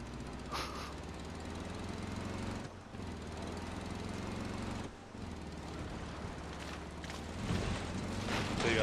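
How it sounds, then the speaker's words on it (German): A vehicle engine in the video game Far Cry 6 with a buzzy, lawn-mower-like motor drone, running steadily and loudly throughout with brief dips and a rougher rise near the end. "Dieses Rasenmähermotor oder was?"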